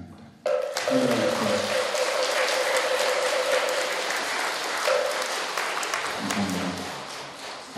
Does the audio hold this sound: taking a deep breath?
no